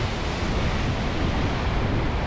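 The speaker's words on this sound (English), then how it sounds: "That's the full force of the wave." Storm-driven waves crashing on the Scottish coast, a dense, loud wash of surf and foam roaring continuously with gusting wind noise buffeting the microphone.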